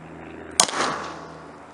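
A single shot from a SCCY CPX-2 pistol, one sharp close crack with a short echoing tail over faint background hum.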